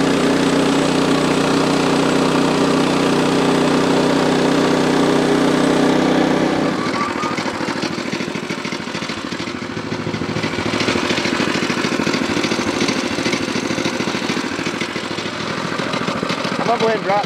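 A sawmill engine runs loudly and steadily while the saw cuts through a log, then the tone shifts to a rougher, busier drone midway. It continues to the end.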